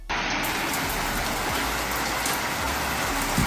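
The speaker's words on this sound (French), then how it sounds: "Il y a une pluie, subhanallah, elle est incroyable." Heavy thunderstorm rain pours down in a dense, steady roar that fills the whole clip, loud and close with no pauses.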